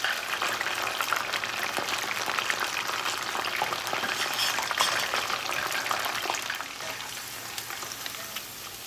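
Shrimp sizzle and spatter in a hot pan on a stovetop, a dense, steady crackling frying sound close by that eases slightly toward the end, with no voices.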